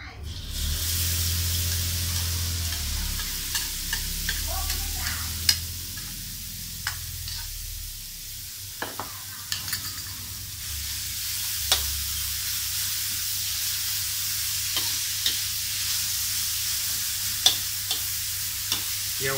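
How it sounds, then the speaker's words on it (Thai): Pounded curry paste of galangal, lemongrass and kaffir lime leaves, already seasoned, goes into hot oil for a Thai jungle curry with coconut milk, setting off a loud sustained sizzle punctuated by scattered spatters and scraping stir clicks, with no voices. "พอน้ำมันเดือดได้ที่เราก็ใส่เครื่องครับ"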